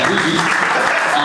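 A seated audience at a lecture claps steadily, dense and loud applause lasting the whole moment without a break.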